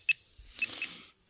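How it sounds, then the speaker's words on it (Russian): An Ozona TC-110 pinpointer metal detector gives a short vibrating buzz, a couple of brief, faint mechanical rattles close up in a quiet room. "Все, теперь звук вибрации."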